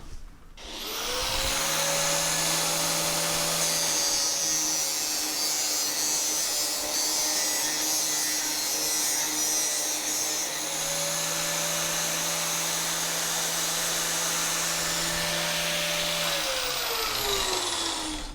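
A fast power saw cuts through plastic LED lamp pieces in an artist's workshop, the plastic melting from the speed. It gives a loud, sustained whining buzz that starts abruptly, dips midway and resumes with shifting pitch.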